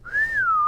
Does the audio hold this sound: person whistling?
yes